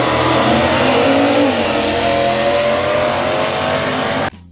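A 1969 Ford Mustang Boss 429 V8 roars loud and close, revving and accelerating hard in a sustained engine drone with rising pitch, then cuts off abruptly near the end.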